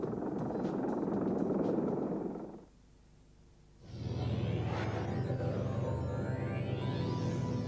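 A Sikorsky RH-53 minesweeping helicopter of the US Navy: a loud rotor and engine roar that drops away for about a second, then returns with a rumbling drone and rising turbine whine.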